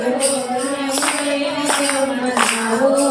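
Hand claps land in a slow, regular rhythm, about one every second, over a sustained sung tone of a Gujarati devotional bhajan.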